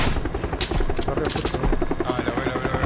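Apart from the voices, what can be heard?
helicopter in the video game PUBG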